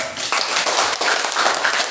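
A classroom of students applauding together, giving a dense burst of quick, overlapping claps from close by that carries on steadily for a couple of seconds.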